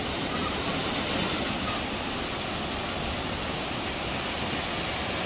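Broad, steady roar of Kravice waterfall, a large cascade in the Balkans, heard from a distance as continuous rushing water with no pauses or voices.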